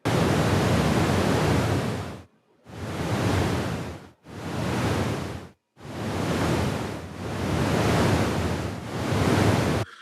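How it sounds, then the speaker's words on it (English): A procedural whoosh effect from the video game Just Cause 4 plays as five broad airy rushes, each swelling and fading in turn, with short silent gaps between them. "we can see a natural whoosh effect start to take shape within the sound"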